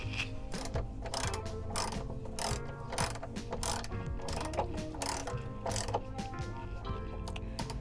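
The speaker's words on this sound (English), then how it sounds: "And a locking nut. And then tighten it up." A ratchet wrench tightens a locking nut while fitting an extended running board to a truck, with steady rapid clicking strokes in quick bursts, loud and close, and no talking.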